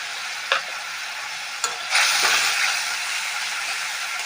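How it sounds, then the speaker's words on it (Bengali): Garlic, green chili, turmeric and salt sizzle and fry in a hot pan while being stirred, a steady hiss with a few sharp scraping bursts from the spoon, no voices. "এখন মশলাটা ভালো করে কষাবো।"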